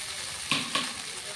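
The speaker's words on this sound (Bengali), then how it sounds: "ফুলগুলোকে আমি ফ্রাই করে দিলাম।" Drumstick (sojna) flowers frying in a pan, a steady soft sizzle with two quick stirring scrapes midway.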